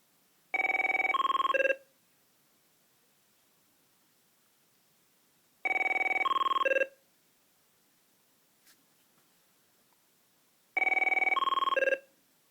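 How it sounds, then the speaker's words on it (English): A Merlin phone's personal ringtone plays three identical short bursts of bright electronic melody, evenly spaced about five seconds apart, clear and close with silence between them. "I'm going to go ahead and ring the phone for you."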